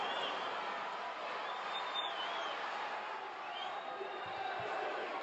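A large, amazing crowd at an underground wrestling match for Magnum T.A. vs. Butch Reed roars in a steady, dense wash of cheering and shouting, loud and continuous throughout.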